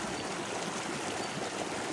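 Holcomb Creek flows along a trail, a steady broadband rush and babble of running water, close and even throughout, with no voices.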